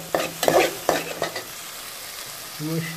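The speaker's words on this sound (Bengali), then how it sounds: "পেঁয়াজগুলা কষানো হচ্ছে।" Onions sautéing in a pan for a spiced chital fish bhuna, with several scraping strokes of a spoon against the pan over a steady low sizzle, close and fairly loud.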